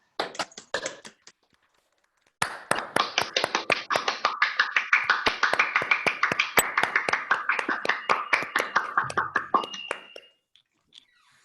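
Participants in an online annual general meeting clap together for several seconds, a dense run of close, sharp handclaps. Two quick claps come first, then a steady burst that fades out at the end.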